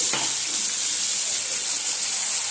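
Onion and tomato paste frying in oil for a paneer curry, a steady loud hiss and sizzle throughout after a brief bump at the start, with no voices.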